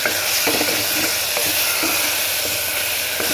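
Chili powder, biryani masala and turmeric fry in hot oil for cauliflower biryani, giving a steady, close sizzle with occasional scraping stir strokes throughout.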